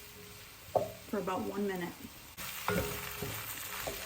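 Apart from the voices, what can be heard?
flour cooking and being stirred in soup pot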